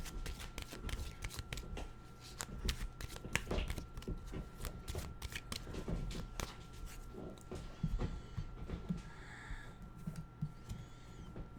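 Oracle cards being shuffled and drawn, a dense run of quick papery riffles and flicks with soft taps, close and fairly quiet, no talking over it.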